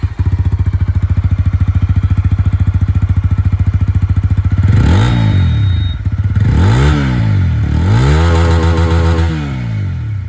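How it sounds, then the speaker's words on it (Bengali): A TVS Apache RTR 160 4V Dual ABS motorcycle with a bullpup exhaust idles with a rapid, even thumping, then is revved hard three times in quick succession, each rev rising and falling loudly up close. "এবার চলুন এখানে বুলপাপ এক্সস্টের যে আওয়াজটা মানে"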